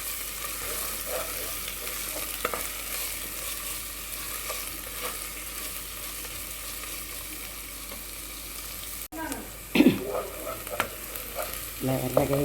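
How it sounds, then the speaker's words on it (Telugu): Sliced onions with a spoonful of ginger garlic paste fry in a pan with a steady, close sizzle; near the end a spoon stirs them, adding scraping and bursts of crackling. "ఇలా ఉల్లిపాయ ఎర్రగా వేయించుకోండి"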